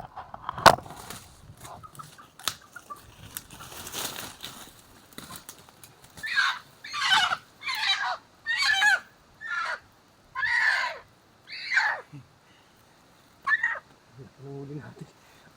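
A large wild junglefowl rooster caught in a trap squawks in a series of loud, evenly spaced calls, preceded by rustling and faint handling noise.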